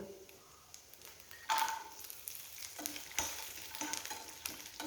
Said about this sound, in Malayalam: നമുക്കിതിലേക്ക് അണ്ടിപ്പരിപ്പിട്ടൊന്ന് രണ്ടും കൂടി ഒന്ന് വറുത്തെടുക്കണം